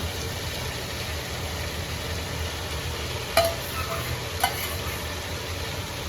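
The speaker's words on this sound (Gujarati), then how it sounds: "તો હલાવી નાખીએ આપણે પાછા." Tomatoes and potatoes for poha fry in a pan with a steady, moderate sizzle, broken by two sharp spoon clinks against the pan as they are stirred, and no voices.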